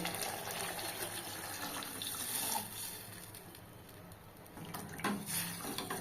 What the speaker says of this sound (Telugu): చింతపండు నానబెట్టి ఇలా పులుసు చేసుకున్నాం కదా, అదైతే పోసేసుకోవాలి